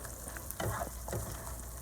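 Chorizo frying in a large skillet, a steady close sizzle broken by two brief scraping stirs, with no talking.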